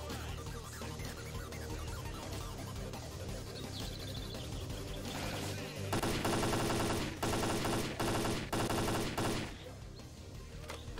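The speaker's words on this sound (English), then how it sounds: "That was really bad shooting." Bursts of rapid gunfire in S.T.A.L.K.E.R. Clear Sky, dense automatic volleys growing louder midway beneath game music and ambience.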